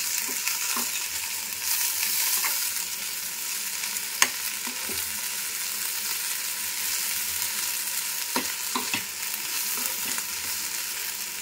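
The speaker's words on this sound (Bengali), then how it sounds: "আর এখানে আমার আলু ভাজাও কমপ্লিট।" Potatoes fry and sizzle in hot oil in a wok, giving a loud, steady hiss. Scattered clicks of stirring and an occasional sharp tap against the pan can be heard over it.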